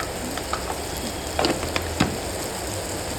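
Tomatoes softening with salt in a pan for kantola bhaji: steady close sizzle with a few brief stirring scrapes and clinks over the top, no voices.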